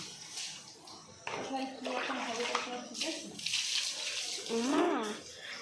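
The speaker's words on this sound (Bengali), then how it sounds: "চলো এখান থেকে ধোয়া স্টার্ট করি" Dishes, including a mug, being scrubbed and rinsed under running water at a sink at night, with a steady broadband wash of water and a child's and adult's voices talking over it.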